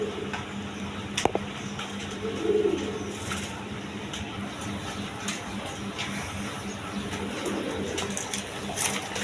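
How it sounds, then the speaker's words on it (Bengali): A pair of Basiras Koka pigeons coo softly in the background of a noisy indoor space, with a low steady hum underneath and a brief clack near the start. "এখানে এক পেয়ার বাসিরাস কোকা কবুতর দেখেন"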